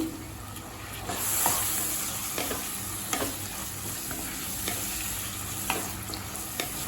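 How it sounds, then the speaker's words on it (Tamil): Tomato with coriander powder and garam masala sautés in a pan for masala rice, a steady close sizzle broken by repeated scraping stirs of a spoon. "இப்போ தக்காளி சேர்த்துட்டு நல்லா வதக்கியாச்சுங்க"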